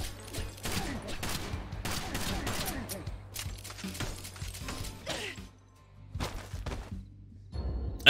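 Gunshots in the video game Kill the Crows: a cluster of sharp bursts in the first seconds, then scattered shots and mechanical clatter over a low steady hum, with a final loud crack at the end.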